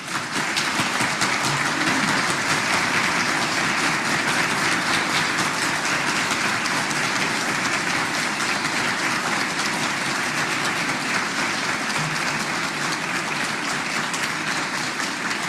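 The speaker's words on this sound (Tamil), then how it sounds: "ஒரு 30 வினாடிகள் எங்களுடைய கைகளை தட்டி மகிழ்ச்சியை தெரிவிப்போம்" Sustained applause from an audience at a cultural stage event, a dense, even wash of many hands clapping continuously without pause or voices, steady and fairly loud throughout.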